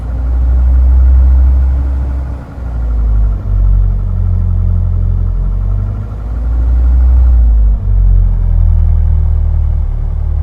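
A loud, steady simulated Diamond DA40 aircraft engine idles at about 1,000 rpm in a flight simulator with a deep droning rumble, pitch dipping and rising slightly a couple of times; no talking.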